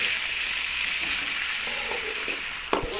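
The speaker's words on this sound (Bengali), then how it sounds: "সবজিগুলোকে নেড়ে করে দিতে হবে।" Chopped vegetables including carrots sizzle in a pan, an even hiss with faint stirring scrapes and a sharp clatter near the end, no voices.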